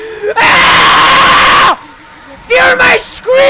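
Loud, harsh screaming from a Garry's Mod character, one sustained shriek followed after a pause by shorter yelps, close and intense.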